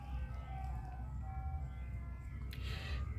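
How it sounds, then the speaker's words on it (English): An ice cream truck plays its tinny melody in the distance while passing a garden on a late-May day, faint chime notes over a low engine rumble, with a brief burst of hiss near the end. "the ice cream truck background noise"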